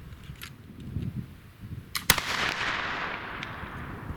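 An 1800 Baker rifle firing a patched ball cartridge with a heavily fouled bore gives a single loud, sharp report midway through, trailing into a decaying outdoor rumble above faint background noise.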